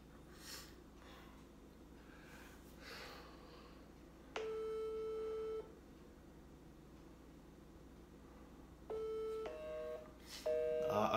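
A telephone call is placed and a busy line signal answers, with faint clicks and dialing noise followed by steady tone bursts repeating at intervals, clear over a low hiss.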